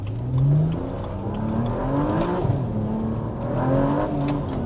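A BMW 335i with the N54 engine and a 1.5-way limited-slip differential revs and accelerates on a drive, heard from inside the car. The engine note climbs in rising sweeps, eases off and then pulls again, with no talking.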